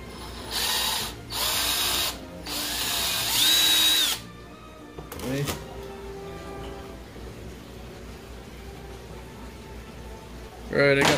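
A power drill drives screws into an Arrma Big Rock V3 RC truck, giving several loud whirring bursts in the first few seconds, then a quieter stretch of clicks and handling, with one more short burst at the end.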